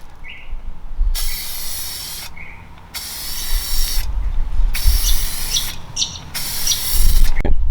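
Aerosol acrylic UV-protectant clear coat hisses in five loud, steady bursts as it is sprayed onto a plastic car headlight, with short quiet pauses between passes.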